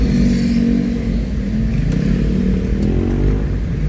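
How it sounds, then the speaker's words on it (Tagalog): Many motorcycles run along a national highway, their engines forming a dense, continuous rumble with passing revs and road noise throughout, close and loud. "Ang daming motor."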